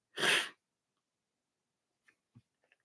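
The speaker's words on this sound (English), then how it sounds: "I'm sorry for the sniffles and occasional sneezing" A single sharp sneeze bursts out near the start, followed by quiet and a few faint small clicks and movements.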